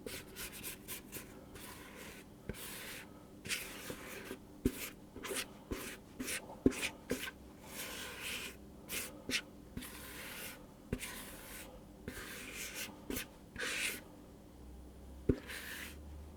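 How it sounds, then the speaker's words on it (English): Panettone dough mixture being scraped from a bowl into a stand mixer bowl: repeated short rasping scrapes and rubbing strokes, close and fairly quiet, with occasional light knocks and no talk. "So I'll scrape the mixture and drop it in"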